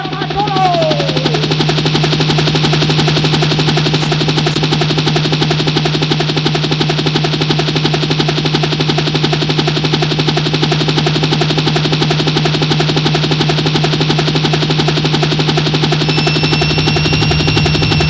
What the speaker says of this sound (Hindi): तो वो भूरे पर उतर रहा है हेलीकॉप्टर।